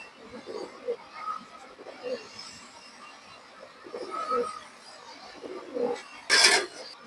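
Two old domestic pigeons coo softly in the background, a low repeated murmur beneath someone talking close by, with one sharp broadband clatter near the end.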